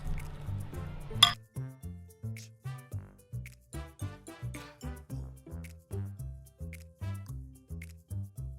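A spoon stirring homemade goo quickly in a bowl, making a fast, steady run of wet clinks and scrapes, close and fairly quiet, with no talking.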